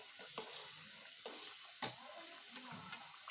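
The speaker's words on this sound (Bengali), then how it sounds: "কারিটা ফুটছে" Rohu fish malai curry simmering in a pan with a little raw mustard oil, a quiet bubbling sizzle with a few soft ticking pops spaced across a few seconds.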